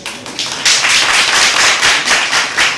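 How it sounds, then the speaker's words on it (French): An audience clapping at an exam-launch ceremony, rapid close hand claps building into steady, fairly loud applause after a softer opening. "Il faut applaudir ça au moins."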